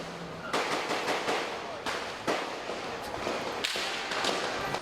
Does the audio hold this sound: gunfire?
yes